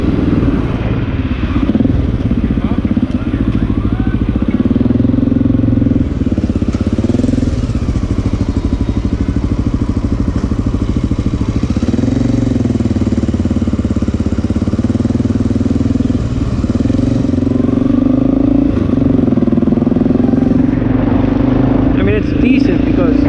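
A Honda XR650L dual-sport motorcycle fitted with a Lexx exhaust runs close by, a loud steady thumping single-cylinder idle with a few revs rising and falling, while someone talks over it.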